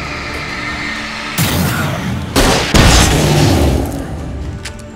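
Gunfire in the video game Alan Wake, several loud heavy shots and booms arriving in quick succession after a quieter opening, with rumbling tails between them.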